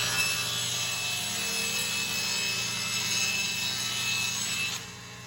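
Table saw crosscutting plywood on a crosscut sled, a steady loud whirring blade noise sustained for about five seconds, then easing slightly as the cut ends.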